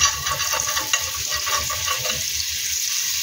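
Melted margarine for salted egg shrimp sizzles and crackles in a pan at close range, a bright steady frying hiss with light stirring scrapes, fading slightly toward the end.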